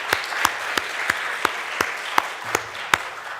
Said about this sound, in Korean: 우리 신나는 박수로 다시 한번 격려하면 좋겠습니다